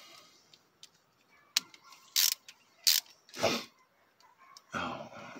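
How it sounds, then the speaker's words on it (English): A ratchet and nut driver working an ignition coil bolt on a 2007 Crown Victoria Police Interceptor, heard as short close-up bursts of ratcheting clicks and metallic scrapes separated by brief quiet gaps. "Go ahead and reverse my ratchet and nut driver here."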